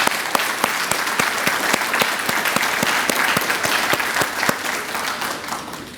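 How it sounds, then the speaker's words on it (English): Full, sustained applause from parents and families at a practical nursing graduation ceremony, honoring teachers and staff, dense and even with crisp individual claps throughout. "Parents, family, will you join me in a round of applause for our teachers and our staff?"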